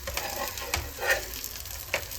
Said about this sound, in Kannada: ಒಂದು ಸೈಡ್ ಚೆನ್ನಾಗಿ ಫ್ರೈ ಆಗಲಿ, ಆಮೇಲೆ ತಿರುಗಿಸ್ಕೊಳ್ಳೋಣ